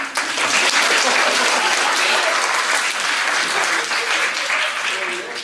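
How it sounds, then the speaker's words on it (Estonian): A studio audience on a TV show breaks into loud, dense applause, close and sustained for several seconds before easing slightly. "Mart Tallinnast aplaus."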